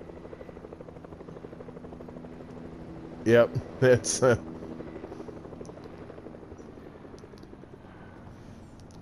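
A helicopter in the Fortnite video game thrums steadily in the background throughout, while someone speaks briefly over it.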